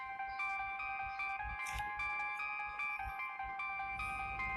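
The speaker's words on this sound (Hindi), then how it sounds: "सकीना आपा का फोन है" A phone ringtone plays in a looping electronic melody of bright repeated tones, steady and fairly clear, with no talk over it.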